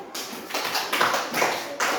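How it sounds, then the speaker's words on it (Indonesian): A primary school class claps briefly for a student, a quick scattered patter of small hands in a room that rises in short bursts over about two seconds. "Dah, tepuk tangan dulu untuk Zamri."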